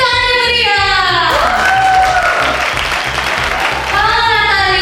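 Audience applause welcoming a young girl at an MC school event, a burst of clapping from a crowd that swells and then fades, with music and a voice before and after it.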